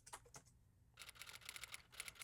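A typewriter sound effect in a film mix, heard as rapid, crisp key strikes in quick irregular bursts with a short pause between them, faint and close.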